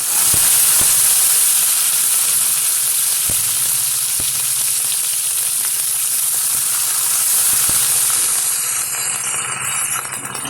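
Steady, loud sizzling of cumin seeds and curry leaves frying in hot oil, a continuous hiss with occasional small pops and crackles throughout, no voices.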